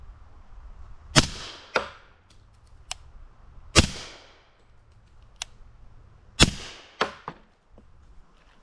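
Handgun shots fired through a Rugged Obsidian 45 suppressor ring out as three sharp, loud reports at a slow pace, each trailed by softer mechanical clicks and brief echoes, with quiet between.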